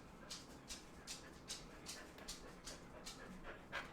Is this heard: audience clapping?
no